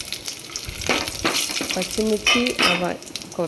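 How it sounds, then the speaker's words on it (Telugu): Green chillies and whole spices frying in oil in a pan for bagara rice, with a bright sizzle, clinks and scrapes from stirring, and a voice speaking over it. "పచ్చిమిర్చి మసాలాలు కొంచెం ఫ్రై అయ్యే వరకు సిమ్లోనే పెట్టి మంచిగా కలుపుకోవాలి"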